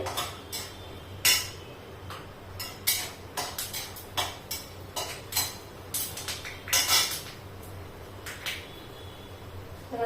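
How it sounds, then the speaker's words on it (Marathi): Peanuts dry-roast in a pan with half a spoon of oil, heard as scattered sharp clinks and scrapes of a spatula against metal at irregular intervals over a quiet, low background hum, with no talking. "आता हे जे शेंगदाणे आहेत ते आपल्याला भाजून घ्यायचे चांगले भाजून घ्यायचे"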